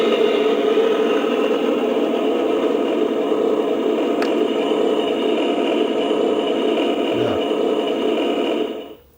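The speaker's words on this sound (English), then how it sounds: "And then a longer push gives you machinery noises." A large Star Wars MTT toy plays a machinery sound effect from its small speaker, a steady humming mechanical drone with a whirring tone that runs continuously for about nine seconds before cutting off.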